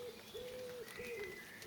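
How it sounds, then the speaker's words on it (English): Wood pigeons cooing in a spring garden on a smallholding, soft repeated coo phrases in two short rounds, faint and somewhat distant against quiet outdoor ambience. "And all the time the lovely wood pigeons calling out their song."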